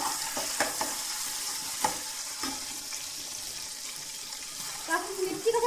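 A spice tempering with onion and ginger-garlic paste crackles and sizzles softly in hot oil, with light stirring knocks, some watery splashing, and a brief voice near the end.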